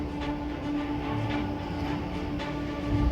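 A railway train runs along the track with a steady rumble and faint rolling clatter, heard continuously and fairly close throughout.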